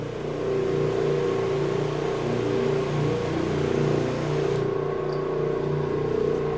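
Orbot Vibe carpet cleaning machine making a wet pass over residential carpet, a steady loud motorized whir and hum with a continuous low drone that holds evenly throughout.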